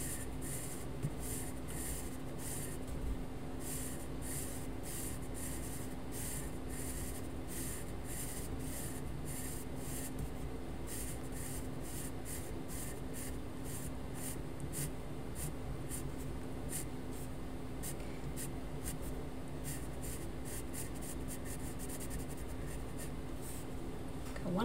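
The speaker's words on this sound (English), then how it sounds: "Now when I'm working on this side, I really need to be able to control my pencil a lot better." Pencil shading with medium pressure on paper taped down to a surface, a steady close scratchy rubbing that continues without pause, strokes running in one direction and then another.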